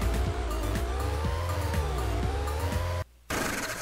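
A car in a video game drives along with a revving engine whose pitch rises and falls, punctuated by tire squeals and skids, cutting out briefly near the end before resuming, with no talking.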